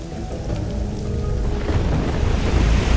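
Heavy storm rain in the video game Risen 2: Dark Waters, close to the coast, a dense steady roar of downpour with low rumbling that swells slightly toward the end, with no talking.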